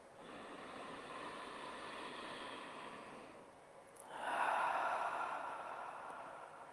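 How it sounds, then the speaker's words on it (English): Slow, deep breathing up close: a long, airy inhale gives way to a brief pause, then a fuller, louder breathy exhale, over quiet room tone with no talking. "Take that first breath."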